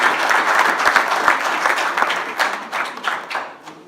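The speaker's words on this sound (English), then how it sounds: "So I want to applaud you and everyone else that showed up" An audience at a school business lecture breaks into applause, a full burst of many clapping hands that swells early and then gradually thins and fades toward the end.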